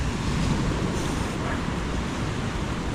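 Sea waves and gusting wind surround a fishing boat out at sea, a steady, loud wash of surf with rough wind buffeting the microphone throughout, no talk.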